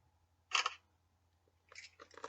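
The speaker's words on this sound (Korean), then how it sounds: "카메라를 찰칵 찍습니다" Smartphone camera shutter sounding as it photographs a business card: one sharp, crisp click, then a softer double click a moment later, close and clear over near silence.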